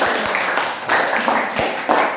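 Students in an Indonesian social studies classroom give a quick round of group clapping. The short, ragged burst of claps comes from close by, with faint voices underneath.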